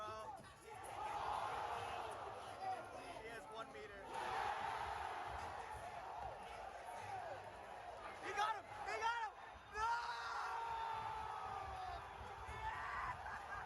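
A Tekken World Tour Finals esports crowd erupts in cheers, whoops and shouts, swelling in waves with sharp peaks near the end, a loud arena roar with excited voices layered over it.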